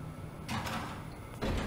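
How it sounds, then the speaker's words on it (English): A door in FNAF Security Breach slides open noisily in two quick swooshes, followed by a heavier thud near the end, fairly close with no voices. "Can you open the door any louder,"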